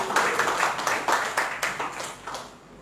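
Congregation clapping together during a church sermon, a steady run of rapid claps at moderate loudness that tapers off toward the end.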